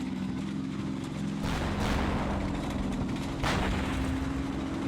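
Rocket launches and explosions boom out in a tank battle from a wartime strategy game, with two loud broadband blasts cutting through a steady rumble of engines and battlefield noise.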